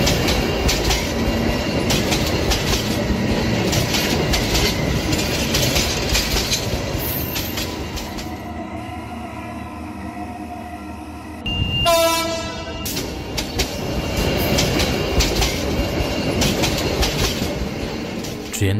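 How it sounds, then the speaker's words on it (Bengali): A cartoon train pulls into a village station: loud rumbling rail noise and rattling wagons, a brief horn blast midway, then the rolling clatter resumes. "কিছু সময় পর ট্রেন নবাবপুর স্টেশনে এসে থামল।"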